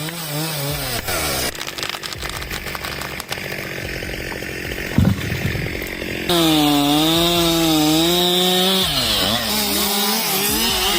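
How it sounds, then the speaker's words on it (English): A chainsaw roars continuously up close while cutting logs in a forest, its pitch shifting and bogging as it bites into wood, then whining higher as it revs between cuts. "3 loggers leave viewers spellbound with their incredibly fast and precise chainsaw cuts"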